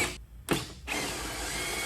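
A power tool removing two 4mm Allen bolts from the side panels of a 2021-on Kawasaki ZX-10R sport bike, heard as a close whir that stops briefly, starts again and then runs steadily.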